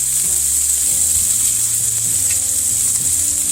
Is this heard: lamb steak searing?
yes